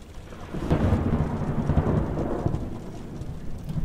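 Rain and thunder from the horror game The Joy of Creation: Reborn, a steady wash of rainfall with a deep rumble swelling from about the first second and fading out by the end.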